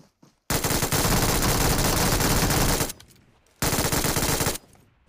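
In a mobile battle royale game, a gun fires in two sustained loud automatic bursts, the first about two and a half seconds long, then a pause before a second shorter burst.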